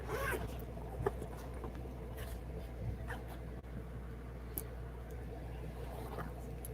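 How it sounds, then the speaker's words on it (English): A side zipper on a bag being pulled open, close and fairly quiet, with a few sharp clicks and scrapes over a low steady background hum. "And I have a zipper on this side."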